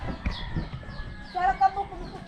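A chicken clucks in short, close bursts, and faint voices murmur in the background.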